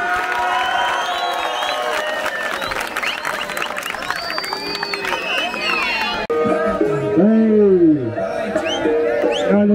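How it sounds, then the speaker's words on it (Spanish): Applause and cheering from a live show audience, loud and continuous crowd noise with shouts, giving way to music with a sung or spoken voice over the top in the final seconds. "Un aplauso para ustedes, hermano."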